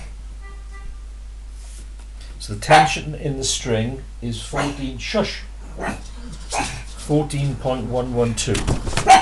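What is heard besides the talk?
dog barking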